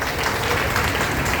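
An audience at a political gathering in Khairatabad claps loudly, a dense continuous burst of applause filling the whole moment.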